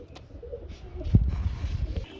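A pair of pigeons coo softly at a Bangladeshi pigeon market, a few low, brief throaty calls that rise briefly above quiet background murmur.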